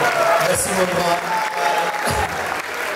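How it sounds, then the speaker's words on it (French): Audience applause at a live comedy show in Côte d'Ivoire, a dense, loud wash of clapping sustained throughout, with someone speaking briefly over it. "aujourd'hui, la 4e, on va l'applaudir encore très très fort"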